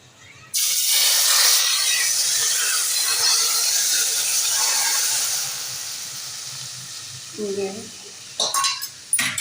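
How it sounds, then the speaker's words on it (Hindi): Tempering poured into smoking-hot oil while cooking dal mash with koftas, bursting into a loud broadband sizzle that hisses steadily for several seconds, then fades, with faint clinks of a pan or utensil near the end. "ये देखें जी, हमारा ऑयल बहुत ज़बरदस्त गर्म हुआ, इसमें धुएँ निकल रहे हैं। अब हम इसका इसमें बिगाड़ देंगे।"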